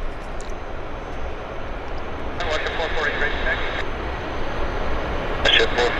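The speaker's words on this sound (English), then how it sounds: "Q400 is rolling" A Q400 turboprop airliner rolls on an airport runway, a steady broadband engine roar heard from a distance, with some tonal whines over it and people talking nearby.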